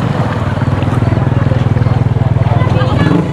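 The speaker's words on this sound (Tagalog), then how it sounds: "maingay talaga kasi yung motor ng bangka" A small wooden motorboat (bangka) engine chugs loudly and steadily in the Philippines after Typhoon Ulysses, with fast regular pulsing throughout and voices faintly under the din.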